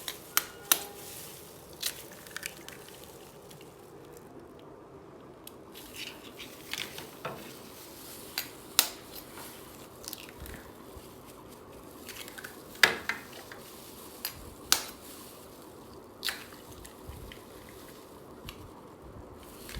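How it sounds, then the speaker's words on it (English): Eggs are cracked against a bowl for carrot cake batter: sharp, scattered taps and knocks with soft splats and shell rustles, close up and fairly quiet, repeating irregularly over about twenty seconds. "Now I'm breaking our eggs."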